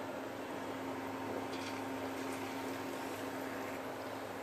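Steady, continuous sizzling hiss of egg-coated potato patties frying in a pan, with a low hum underneath and no voices.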